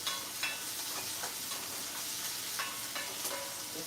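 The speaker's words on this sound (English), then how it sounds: "It's frying up, it's frying up." Ackee and salt fish sizzles steadily in a pot, with occasional sharper pops and clinks from stirring, fairly quiet and without any voices.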